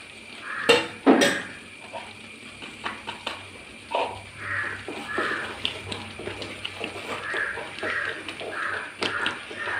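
Tomato halwa being stirred in a pan, a thick mixture worked with a spoon, giving irregular scraping and clinking metal knocks close by, with a sharp clatter early on and a quiet room tone beneath.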